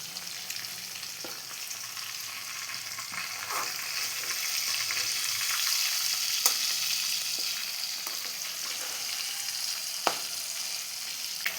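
Chicken for biryani sizzles steadily in a pan of hot oil, a close continuous frying hiss punctuated by occasional sharp pops and the scrape of stirring.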